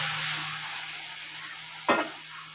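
Water is poured into a pan of spiced potato curry, landing in one short burst of sizzle and splash over a steady background hiss of frying.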